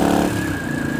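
A motorcycle engine held at full throttle in third gear, a loud, close, sustained roar with a steady whining tone across a brief second.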